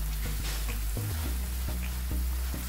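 Spice masala of black pepper, black raisins and coriander powder roasting in a pan for dhaba-style paneer bhuna masala, a steady close sizzle with occasional stirring clinks and scrapes.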